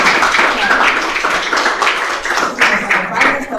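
A lecture audience claps for speaker Andrés, with steady, dense hand-clapping that swells in bursts over a few seconds while a voice talks over it in Spanish.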